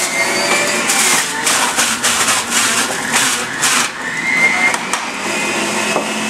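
A powerful kitchen machine shreds a handful of carrots, a loud steady whirring grind that pulses slightly as the pieces are chopped, running continuously up close.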